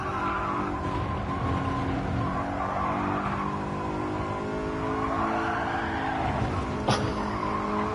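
A BMW M3 in Gran Turismo 7 at Autopolis spins its wheels, giving a steady, loud tire squeal and skid over a continuous engine drone throughout, with a brief sharper burst near the end.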